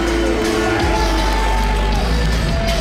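A hostile wrestling crowd in Dresden roars and whoops at a wXw singles match, a loud continuous wash of arena noise over a steady low hum, with a voice talking on top.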